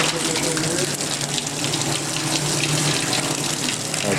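Rinse water pours steadily from a tap on a dairy farm, a loud, continuous gushing splash close by with no break.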